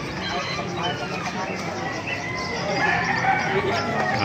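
A White Hatch gamefowl rooster at a market in Calumpit calls amid a busy, noisy crowd of other chickens clucking and crowing, with people talking throughout.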